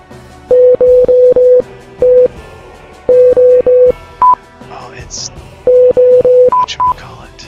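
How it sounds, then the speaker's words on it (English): Electronic beeping tones from a Roblox game, sounding in short repeated bursts grouped into rhythmic patterns like Morse code, loud and clear with brief pauses between groups and a few higher-pitched beeps. "It's Morse code."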